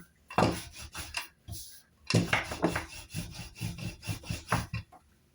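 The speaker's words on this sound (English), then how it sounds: "So I'm going to try roll it out thinly as possible." Samosa dough being rolled out thinly with a rolling pin, a run of dry wooden rubbing and rolling strokes in a steady rhythm, close and alone after a short pause.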